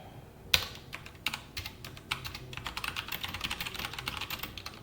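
Fingers type on a computer keyboard up close, starting with a few separate key presses and then settling into rapid, continuous clicking, with no talking over it.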